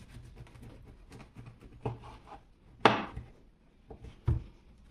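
Thin slices cut from a loaf of bread with a black Ganzo G6252 folding knife, giving a few soft crunchy strokes and scrapes with quiet gaps between them, close and fairly faint.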